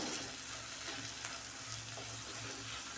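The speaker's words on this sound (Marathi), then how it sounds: "खोबरं लसूण आणि कोथंबीरचं वाटण आहे ना छान सर्व मसाल्यांसोबत परतून घ्यायचं" Masala being sautéed with a ground paste of coconut, garlic and coriander, giving a continuous close hiss of frying with faint stirring sounds beneath it, steady and moderately quiet throughout.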